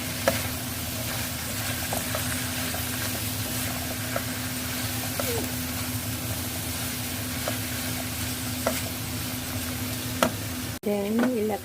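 Pancit bihon rice noodles with carrots are stir-fried, a dense, even sizzle with light stirring taps holding steady throughout, then a short voice breaks in at the very end.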